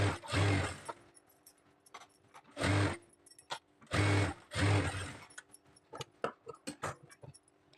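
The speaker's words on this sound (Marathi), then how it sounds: "त्याच्यावर आपण आता अस्तरवरती दाबटीप देणार आहोत" A domestic sewing machine topstitching a blouse lining, running in several short loud bursts of rapid stitching separated by pauses, followed by lighter clicks and handling of the fabric.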